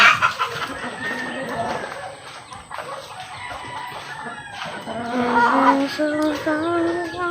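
Gamefowl chickens cluck and crow close by, a series of harmonic calls rising and falling over several seconds, loud and clear with a steady high hiss in the background.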